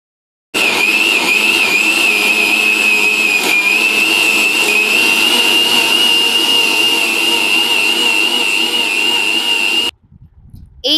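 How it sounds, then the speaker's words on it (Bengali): A mixer grinder whirs steadily for about nine seconds, blending cut ripe mango pieces into a fine paste for aamsotto, loud and continuous with a high motor whine, then cuts off abruptly. "সেগুলি পিস পিস করে কেটে মিক্সির মধ্যে দিয়ে দিতে হবে। একদম মিহি করে একটি পেস্ট বানিয়ে নিতে হবে"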